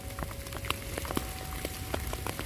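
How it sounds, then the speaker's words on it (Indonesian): Heavy rain falls steadily near a railway station in Rancaekek, a dense hiss of drops with scattered louder splats spread evenly through the moment. "Hujannya semakin lebat."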